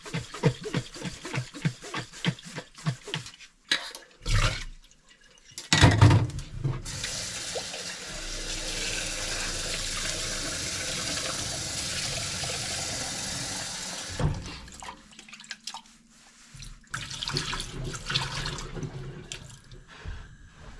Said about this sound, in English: This time give them a good shake with some water.